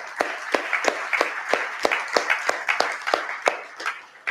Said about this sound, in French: Je vous demande de bien les applaudir